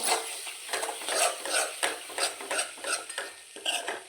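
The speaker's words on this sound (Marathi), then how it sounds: "हे करून घ्यायचं आहे आपल्याला मिक्स मसाल्यामध्ये" A spoon stirs yogurt into a spice masala in a pan for broccoli sabzi, making rhythmic scraping strokes about every third of a second over a light sizzle, close and without talk.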